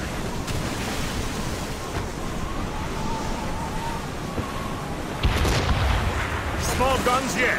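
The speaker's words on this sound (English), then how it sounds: "They are firing a volley!" A ship's cannon volley during a naval battle in Assassin's Creed Rogue: a heavy boom lands about two-thirds of the way through, over steady surf-like sea and wind noise, with voices in the background.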